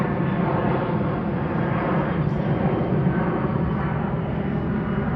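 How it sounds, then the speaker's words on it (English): A fixed-wing airplane flies overhead near an airport, giving a steady, broad roar that stays loud and constant throughout without rising or fading noticeably. "and we got a plane. I live near an airport"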